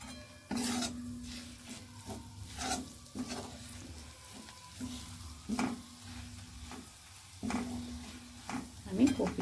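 Oil sizzling in a pan, with a steady frying hiss broken by repeated stirring and scraping clatters, close and moderately loud, with a few quiet vocal sounds in between.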